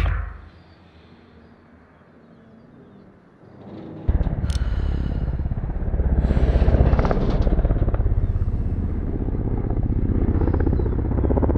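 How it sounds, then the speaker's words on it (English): An enemy attack helicopter in Call of Duty Warzone roars in after a quieter opening, its dense rotor and engine noise loud and sustained to the end. "Be advised, enemy attack chopper incoming."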